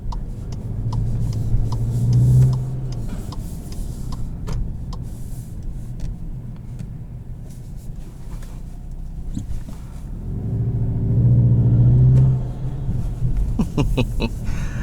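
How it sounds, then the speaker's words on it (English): A 2021 Volkswagen Jetta GLI with an aftermarket intake accelerates in two loud bursts, each ending in a wastegate flutter and whoosh, heard from inside the cabin over a steady road drone. "That's louder than a lot of wastegates I've ever heard."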